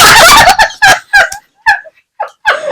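A man imitates a turkey gobble with his voice, letting out a rapid string of loud, close, warbling bursts separated by brief pauses.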